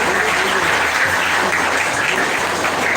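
Steady, dense applause from an audience at a memorial event and commemorative book launch, loud and continuous throughout with no pauses.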